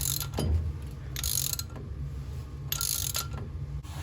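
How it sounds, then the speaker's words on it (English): A car's wheel stud is drawn into the hub with a cheater bar, giving rhythmic metallic ratcheting clicks and grinding in bursts, close and moderately loud. "This time I'm gonna thread this on this way. I'm gonna use a little cheater bar here."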